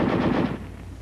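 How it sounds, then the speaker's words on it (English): An automatic small arm from a US Army training film fires a short, rapid continuous burst, loud and close, then cuts off into a fading echo. "Weapons giving automatic fire will fire continuously as long as pressure is applied to the trigger or until the ammunition is exhausted."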